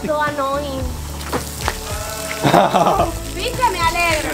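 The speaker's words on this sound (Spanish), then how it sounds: "¡Está lloviendo!" Rain falls steadily outside, a continuous hiss and patter like sizzling, heard under excited voices talking over it.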